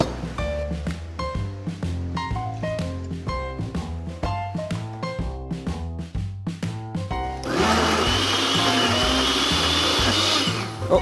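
An electric blender whirs up stracchino cheese cream with water, a loud steady motor roar that starts abruptly in the last few seconds, after a stretch of background music.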